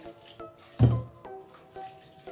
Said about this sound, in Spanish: voy a mojarlo con agua fría, el agua no está caliente